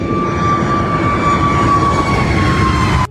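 Jet airplane engine roaring loudly overhead with a steady high whine that slowly falls in pitch as it passes, continuous and alone for about three seconds.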